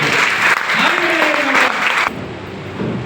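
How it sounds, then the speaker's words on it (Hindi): Seminar audience applauding, a dense burst of clapping that fades toward the end while someone talks over it. "ताली बजाइए आप अपने लिए।"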